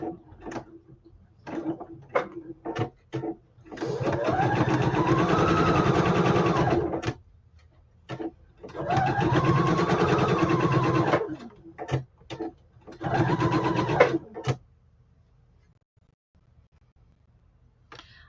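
A sewing machine chain-piecing quilt seams, running in three loud bursts of a few seconds each, broken by short clicks and handling sounds between them in a quiet room.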